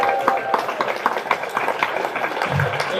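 Clapping at a fundraiser evening, with a steady patter of quick claps spread through a crowded room and mixed with cheering and chatter.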